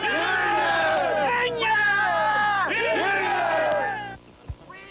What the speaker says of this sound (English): This crowd of striking miners started a march to the McClure No. 1 mine from their picket line